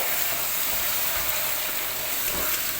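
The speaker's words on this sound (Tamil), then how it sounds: "இப்போ பாருங்கள், வெங்காயம் கொஞ்சம் வதங்கி வந்திருக்குது." Onions frying in a large pot of oil for chicken biryani for 25 people, a steady, dense close sizzle with no break.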